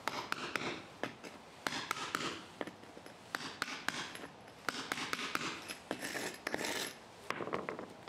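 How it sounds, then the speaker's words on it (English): Sharp metallic taps of a hammer on a bolster chisel chipping away loose mortar strike again and again in an uneven rhythm, close by, with gritty scraping between blows and no talking. "We now need to thoroughly clean away any loose mortar. You can do that using a bolster chisel and a hammer."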